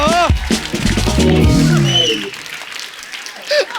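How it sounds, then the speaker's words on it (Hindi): Studio audience claps on a television comedy talk show, a short burst of applause mixed with voices and laughter, fading to quieter room sound. "कार्तिक की मम्मी ने ताली बजाई ऐसे करके।"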